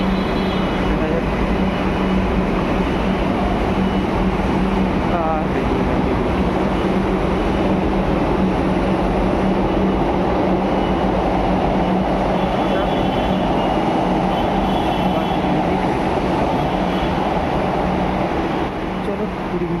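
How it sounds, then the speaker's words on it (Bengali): A metro train on the Ruby to New Garia line rumbles at a station platform with a loud, steady, continuous roar that fills the scene throughout. "পরের মেট্রোটা ধরা যাক।"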